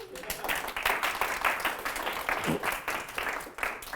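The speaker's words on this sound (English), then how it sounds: "Applause, please." Applause from a workshop audience at the close of a talk, a continuous moderate wash of clapping lasting the full few seconds, somewhat distant and even.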